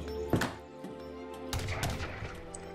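A few sharp gunshot bursts in the video game Age of Empires 3: The WarChiefs crack out over a steady background hum, spaced irregularly across the short stretch.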